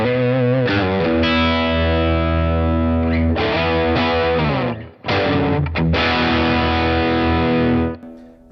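A distorted electric guitar runs through a Blackstar St. James amp with the mids fully scooped, playing loud sustained chords and riffs with a brief gap midway and a chorus-like shimmer.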